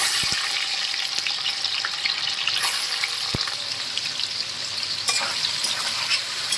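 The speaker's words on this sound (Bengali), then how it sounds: "পনিরগুলো একটু লাল লাল করে ভেজে নেব" Paneer pieces frying in hot oil, giving a loud, continuous close-up sizzle with a few stirring clicks and scrapes over the top.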